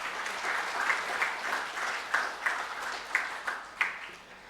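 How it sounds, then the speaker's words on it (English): A college audience at a brainstorming session gives a round of applause, a steady wash of many hands with a few sharper claps standing out, fairly close and without talk. "Please say thank you with a round of applause"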